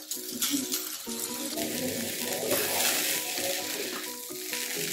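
Grated sweet potato stirred in an oiled pan, with a loud, steady sizzle and repeated scraping stirs throughout.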